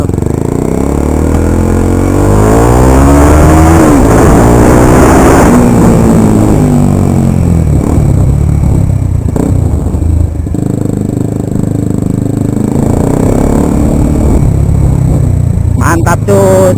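A Kawasaki Ninja mono motorcycle fitted with an Akrapovic exhaust revs repeatedly, pitch sweeping up and down in loud close bursts over an idling rumble, with voices talking alongside.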